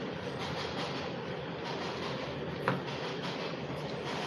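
A train rumbles past with a steady, heavy roar and faint rhythmic clatter, one brief sharper clack partway through.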